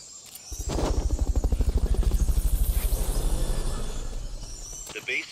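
A Fulton recovery helicopter in the video game Metal Gear Solid Peace Walker thumps past with a rapid, steady rotor chop that swells loud, then fades away, ending with a short clatter.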